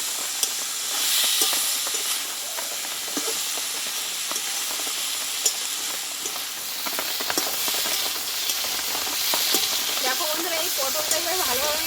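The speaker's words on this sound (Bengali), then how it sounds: "এই পটলটা এবার আমি ভালোভাবে একটু ভেজে নেবো পটলটাকে" Pointed gourd (potol) fries in a pan with a steady, close sizzle and hiss, broken by small pops and scraping stirs.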